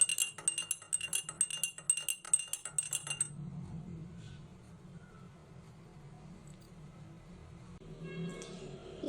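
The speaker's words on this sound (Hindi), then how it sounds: "अब इसको मिक्स करना है।" A spoon mixing honey into a fat-cutter drink, with rapid rhythmic clinks against the glass for about three seconds, then a quieter swishing stir and a faint final clink.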